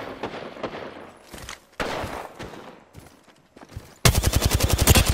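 Gunfire in the video game Apex Legends, with scattered shots and impacts early on, then a loud, fast automatic burst of evenly spaced rounds that closes out the stretch.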